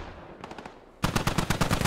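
Machine gun fire from an enemy technical vehicle in the military shooter Squad: faint, distant bursts first, then a sudden loud, close, sustained rattle of rapid shots.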